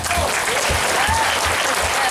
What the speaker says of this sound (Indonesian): Tepuk tangan buat Anissa.